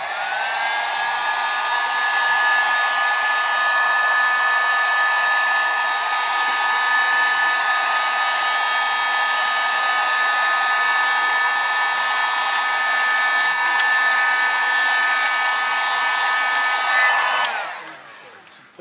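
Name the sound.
spraying paint from rattle can onto wheel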